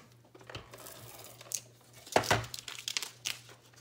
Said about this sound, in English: I'm gonna just add a little bit of tape to the back of it.